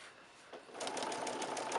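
A sewing machine stitching quilt strips with a quarter inch seam, starting after a short pause and then running in a fast, steady whir of rapid needle pulses, close and clear, with no talking.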